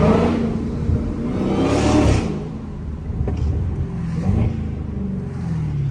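Straight-piped supercharged Dodge Hellcat engine heard from inside, a steady loud rumble with a rising rev near two seconds and a faint high whine riding over the drone.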